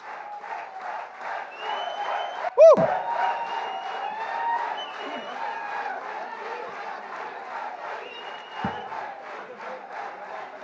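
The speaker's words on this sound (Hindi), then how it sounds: "जोरदार तालियां हो जाए" Applause and cheering from a large crowd at a film music launch event, sustained clapping and shouts throughout with one sharp loud burst early on.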